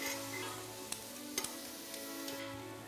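Onion and celery sauté in a pan with a faint, steady sizzle and a few soft stirring ticks, quiet and unbroken by talk.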